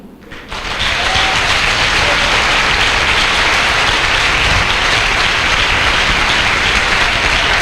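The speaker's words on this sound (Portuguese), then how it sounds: "Você não vai aplaudir Jesus, não?" Large audience at a church youth event bursting into loud, sustained applause that rises within the first second and holds at full strength, with no talking over it.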